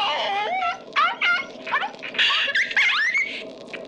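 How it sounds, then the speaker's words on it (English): A puppy whimpers in BioShock Infinite, sending out a string of high, wavering whines and yips, close and fairly loud, with short pauses between the cries. "Break that sweet puppy's neck."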